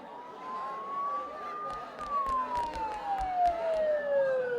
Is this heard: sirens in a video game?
yes